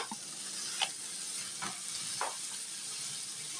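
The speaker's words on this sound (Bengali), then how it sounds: "ডিম আর চিকেন এখন একসাথে আমি মিশিয়ে নিচ্ছি।" Scrambled egg and chicken stir-fry together in a pan with a steady, quiet sizzle, broken by a few soft scrapes of stirring.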